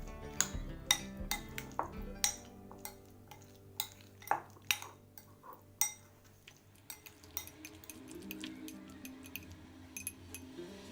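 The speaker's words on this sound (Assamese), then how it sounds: "এতিয়া ভালদৰে আমি মিক্স কৰি ল'ম।" Spoon clinking and scraping against a bowl while Russian salad of boiled potatoes and mayonnaise is mixed, a steady run of close, sharp taps and chinks with soft squelchy stirring between.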